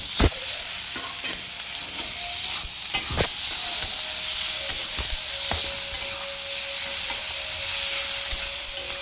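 Chopped tomato goes into a pan of reddish fried onion for a curry leaf and tomato chutney, a loud, continuous sizzle with occasional sharp clicks of a spatula and a faint thin steam whine.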